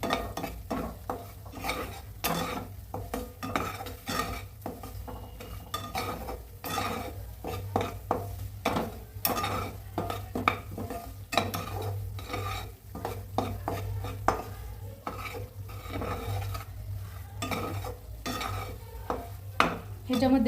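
Semolina (rava) roasts in a pan over a low gas flame for sheera prasad, with a spoon scraping and stirring in uneven, repeated strokes and metal clinks against the pan, under a soft steady hum.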